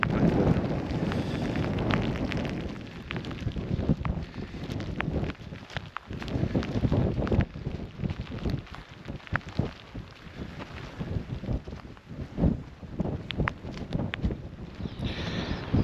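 Strong gusts of wind buffeting the microphone on the summit of Brae Fell in the Lake District fells, rough and loud with uneven surges and crackling bursts throughout.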